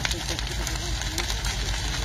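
A large fire burning in Bughea de Jos roars steadily with a dense rumbling crackle, loud and close, with no clear voices.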